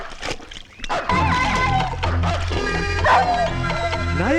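A dog barks and yelps in a Tamil comedy film scene. The loud, sharp cries sit over music with a busy, tonal background.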